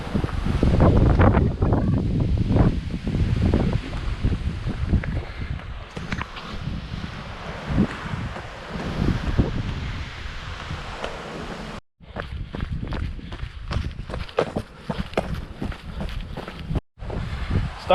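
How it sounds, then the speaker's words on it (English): Strong wind buffets the microphone on a hillside running trail near Wellington, New Zealand, roaring in loud continuous gusts with brief drops, and no voice heard. "Starting to get quite windy now."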